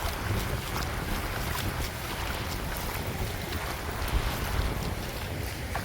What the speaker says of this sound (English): Getting a bit windy now